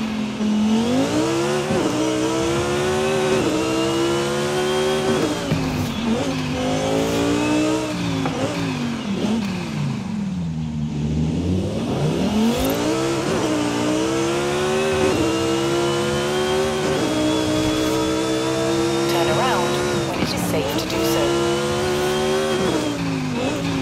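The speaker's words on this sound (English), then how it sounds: "I wanted to show you the Huracan Performante, a bit of gameplay of that, because it sounds like, sounds amazing" A Lamborghini Huracan Performante in Forza Horizon 5 roars through repeated climbs up the rev range with gear shifts, a loud, near, continuous engine note that briefly dips and recovers midway before pulling hard again.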